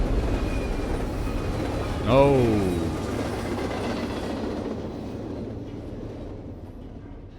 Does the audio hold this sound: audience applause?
no